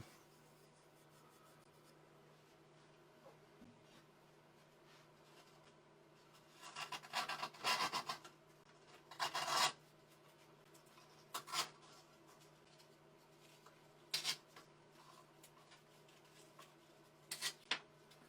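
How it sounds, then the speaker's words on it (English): A copper and wood fountain pen is hand-sanded with 330, 400 and 600 grit sandpaper. It makes faint, quiet rasping strokes that come in short bursts separated by pauses. "now we're going to go ahead and sand it"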